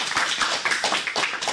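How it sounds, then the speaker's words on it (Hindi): Close applause from an audience of schoolchildren at a school program, a lively run of hand claps with uneven, overlapping bursts. "तो जोरदार तालियां हो जाएं"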